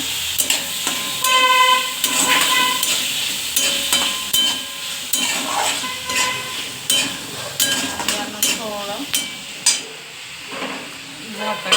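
Tomatoes frying in a pan with browned onions, sizzling steadily while a spoon scrapes and stirs in repeated clanks and scrapes, close and fairly loud.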